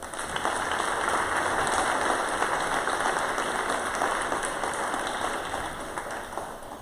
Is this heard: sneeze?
no